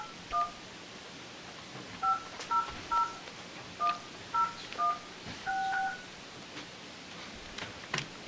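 A telephone number is dialed on speakerphone at a town board meeting, a series of short touch-tone beeps in an uneven rhythm over a hissy room background, with no talk.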